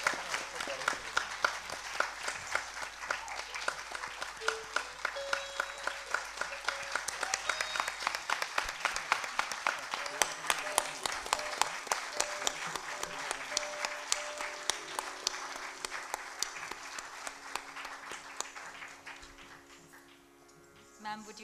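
Sustained audience applause after an Odissi classical dance debut performance in Kolkata, steady clapping from a crowd lasting throughout and fading near the end, with some voices mixed in.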